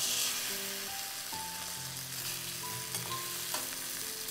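Pork roasts in a Salad Master electric pan as the fat renders, making a soft steady sizzle with faint crackles and occasional light clinks, with no talk.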